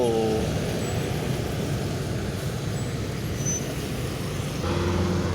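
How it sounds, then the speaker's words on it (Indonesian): Indah Kargo bus passing on a busy road in Palembang, a steady broadband engine and tire rumble amid traffic noise, with a brief air-brake hiss toward the end. "Ini Indah Kargo, bus Indah Kargo."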